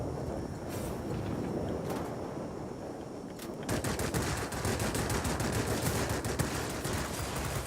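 Aircraft machine guns in World of Warplanes aboard the P.1056 fire in sustained rapid bursts, a dense rattling stream that grows louder and continuous in the second half over steady engine drone.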